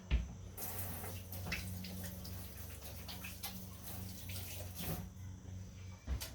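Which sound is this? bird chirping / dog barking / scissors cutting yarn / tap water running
tap water running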